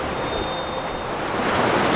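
Steady broadband wash of ocean surf on an Australian beach, continuous and fairly loud with a slight wind-like hiss, no voices.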